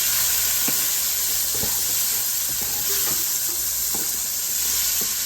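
Vegetables hit hot olive oil left over from cooking shrimp, giving a loud, steady sizzle and hiss up close, with a few soft clinks and stirring taps scattered through it and no talking.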